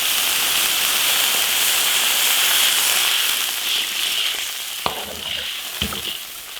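Water poured into a hot iron wok of fried beef and chili sauce, a loud hissing sizzle that slowly eases, with a few sharp clinks of a utensil near the end.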